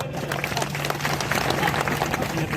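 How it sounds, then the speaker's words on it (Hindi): A crowd at a Tantya Bhil martyrdom day gathering claps for a man in the audience, a continuous busy patter of many hands over a low steady hum, with faint voices mixed in. "ये आदमी के लिए ताली बजाओ"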